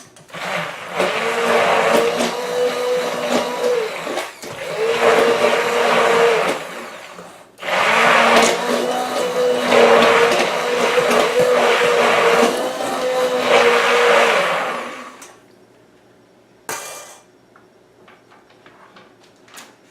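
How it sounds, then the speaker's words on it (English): An immersion blender mixing soap whirs in three long bursts separated by brief pauses, then stops, leaving a short clatter and quiet. "So hit that with the immersion blender again."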